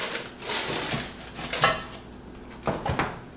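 A heavy lid set back onto a pot holding a ball of chocolate artisan bread dough before baking, giving a few clunky metallic knocks and scrapes close by, with a louder clank near the end.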